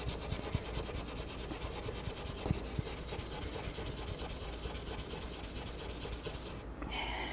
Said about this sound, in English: So we're just going to do a section like right here.